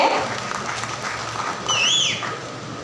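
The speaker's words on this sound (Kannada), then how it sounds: "ನಿಮ್ಮೆಲ್ಲರ ಪ್ರೀತಿಯ ಚಪ್ಪಾಳೆ ಬರಲಿ ಕಂಚಂ ಕೃಷ್ಣಮೂರ್ತಿ ಗುಪ್ತಾ ಸರ್ ಅವರಿಗೆ" Crowd applause at a Karnataka ration dealers' association calendar inauguration, a steady wash of clapping filling the hall, with a rising and falling whistle cutting through near the end.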